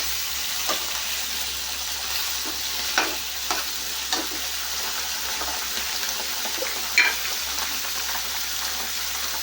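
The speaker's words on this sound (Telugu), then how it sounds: "రంగు మారేంత వరకు ఆయిల్లో ఈ విధంగా ఫ్రై చేసుకోవాలి" Brinjal pieces sizzle steadily in hot oil in a pan, with intermittent scraping clinks as they are stirred, the frying hiss constant underneath.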